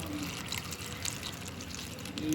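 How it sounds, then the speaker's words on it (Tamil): Water pouring over two handfuls of ingredients for a natural boron fertilizer, a soft continuous trickle and splash close by, fairly quiet and steady throughout. "மூழ்கிற அளவுக்கு தண்ணி ஊற்றிக்கிட போகிறேன்"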